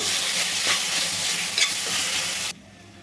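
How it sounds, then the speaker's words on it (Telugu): Carrot pieces frying on high heat in a pan, a loud, continuous bright sizzle with a few stirring scrapes, dropping suddenly to a quieter hiss at the end. "క్యారెట్ ముక్కలు వేసిన తర్వాత హై వేయించుకోవాలండి"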